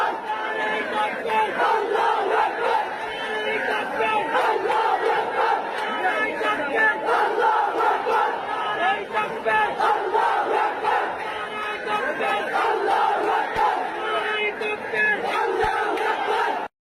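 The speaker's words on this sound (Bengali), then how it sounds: "নারায়ে তাকবীর, আল্লাহু আকবার। ম্যাচ শেষে গ্যালারি থেকে এই একটা ধ্বনি ভেসে আসছিল একবার না বহুবার।" A large stadium crowd chants "Naraye Takbir, Allahu Akbar" after a match, a dense, loud roar of many voices rising and falling in a rhythmic chant that carries on without a break before stopping abruptly.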